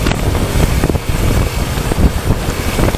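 Strong coastal wind on the zigzag road of Mariveles, Bataan, buffets the microphone in a steady low roar with gusty surges, alone without voices.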